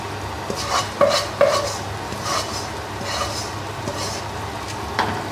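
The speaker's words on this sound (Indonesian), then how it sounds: "Sambil kita aduk" A pot of rawon beef stew being stirred, with soft repeated spoon scrapes and a couple of light knocks against the pot over a low background hum, fairly close and without talk.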